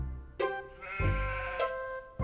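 Sheep in the video game Harvester give several close, wavering bleats in quick succession, each a nasal, quavering baa over a low background, fairly loud and with no talk.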